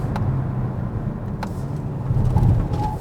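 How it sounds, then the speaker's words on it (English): Hyundai Kona N-line with a 1.6 liter turbo engine accelerating, a steady low drone heard from inside the car that swells slightly toward the end. "it just feels like engine is breathing more freely with less friction"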